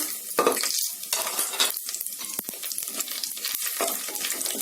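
Whole garam masala spices sizzle in hot ghee and oil, tempered for chicken biryani; a steady, close crackle with scraping stirs and light clinks of a utensil against the pan, no voices.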